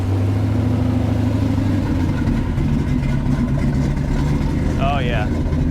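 A 1986 Jeep CJ7 engine runs at a steady idle, a low continuous rumble that holds even from start to finish, with a brief higher squeak near the end.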